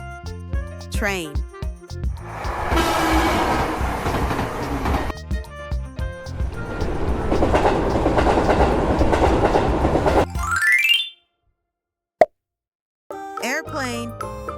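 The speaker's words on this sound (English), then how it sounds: "Train." A train passing on rails, heard as a steady rumbling roar with rhythmic clatter for several seconds, then cutting off abruptly, followed by short tonal sounds and brief silence.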